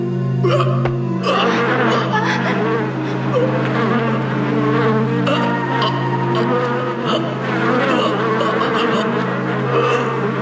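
A swarm of bees buzzes loudly and steadily throughout, a dense, continuous drone that stays close and unbroken, styled as an anime sound effect.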